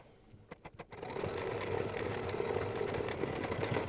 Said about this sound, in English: The next color stop is going to be green, so I put green in the needle and I will stitch this one out.